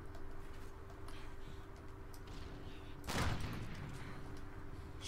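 A single loud sniper rifle shot rings out in Call of Duty Ghosts multiplayer, a sharp broadband crack with a short decaying tail, rising above a steady low game ambience and hum.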